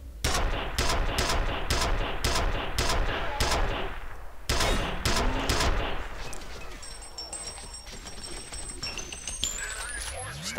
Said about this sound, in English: Stop shooting, man, you're dead.